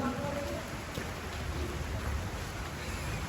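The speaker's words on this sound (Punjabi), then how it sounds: "ਲਓ ਜੀ ਮੀਂਹ ਤੇਜ਼ ਹੋ ਗਿਆ" Steady rain falls on a Punjabi farm during an old-style chickpea harvest, a dense even hiss of drops close by that continues without a break.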